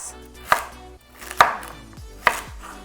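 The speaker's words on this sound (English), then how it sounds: "I'm gonna chop up 2 carrots and 3 stalks of celery into nice bite-sized pieces" A knife chops washed, peeled carrots and celery stalks into bite-sized pieces on a board: three sharp, close cuts spaced about a second apart, each with a quick scrape or thud, and no voices.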